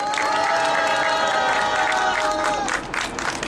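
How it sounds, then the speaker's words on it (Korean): A crowd at an outdoor protest culture rally claps and cheers loudly, shouts and whoops over dense applause along with a sustained tonal note, then the noise thins toward the end. "다시 한번 분위기를 살려준 메이데이 동지들에게 힘찬 박수 부탁드리겠습니다"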